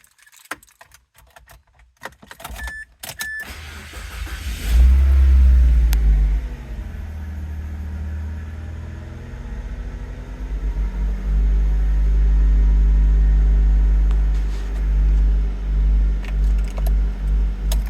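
A 2002-2003 Mazda Protege5 engine cranks with a few clicks, then catches and settles into a steady, loud low rumble that keeps running smoothly to the end.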